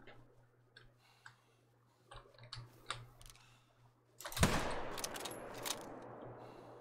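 Rifle shot fired at a red deer while hunting in the video game The Hunter, a sudden loud broadband blast midway followed by a long rolling echo and reverberating tail over quiet forest ambience with faint clicks.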